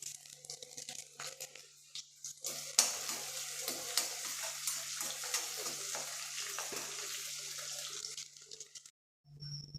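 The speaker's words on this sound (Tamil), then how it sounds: "இப்போ வெங்காயம் நல்லா வதங்கிடுச்சு." Onions sauté in a pan with garlic for dried anchovy curry, a steady close sizzle with stirring scrapes and occasional clinks that briefly cuts out near the end.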